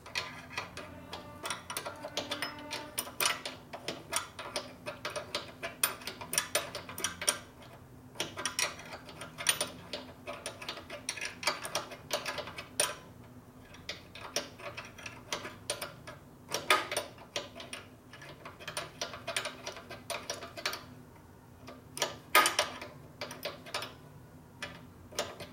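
A long bolt is wound in by hand with a ratchet on a 1973 Shovelhead 74ci custom bobber, making a steady run of rapid mechanical clicks that continues for about twenty-five seconds, close and fairly quiet, with no talking.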